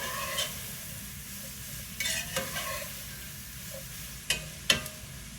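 Onion, celery and pepper sizzle in bacon grease with a steady low frying hiss, broken by a few sharp scrapes and clinks of a spoon stirring the pan.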